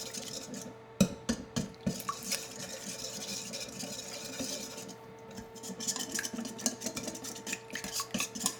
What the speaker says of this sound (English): now I'm going to take the whisk and just go ahead and whisk this all together.